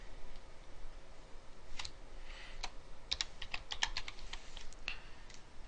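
Close computer keyboard typing a username and password, a fast run of sharp key clicks in uneven bursts, some keys struck in quick clusters, with no talking.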